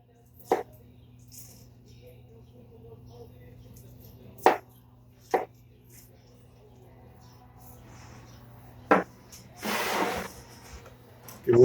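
Italian meatloaf fresh from the oven being sliced with a knife, a few sharp isolated cuts spaced seconds apart, then a longer scraping rasp near the end, close and fairly quiet with no talking.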